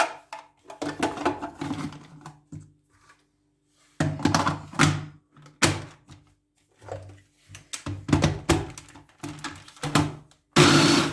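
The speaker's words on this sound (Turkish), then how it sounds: "Ve işte rondodan geçiriyoruz arkadaşlar." A food processor grinds a cheesecake base with hazelnuts in short, loud pulsed bursts separated by silent gaps, each burst whirring and rattling before cutting off abruptly.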